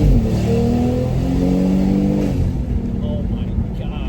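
A BMW X3 M40i engine with a CTS aftermarket intake revs hard with a throaty intake roar, pitch rising then easing off as it dips, loud and close.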